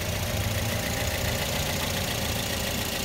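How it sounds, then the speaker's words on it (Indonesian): A used 2012 car's engine idles steadily, a smooth continuous rumble close by with no talk, holding an even level throughout. "Dan mesin pun masih kering, suaranya pun masih sangat langsam."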